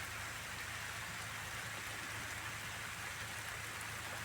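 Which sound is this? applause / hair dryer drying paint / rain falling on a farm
rain falling on a farm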